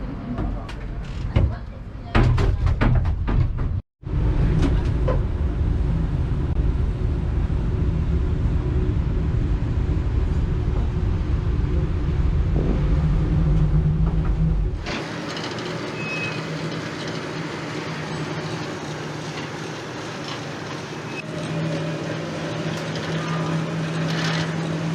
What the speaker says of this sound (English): there's also a very old school looking cable car